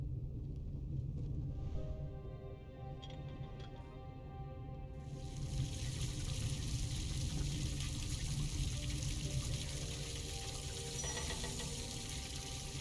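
Water runs through a radiator heating loop in a house as a low, steady rushing trickle that grows noticeably louder and fuller partway through, with no talking.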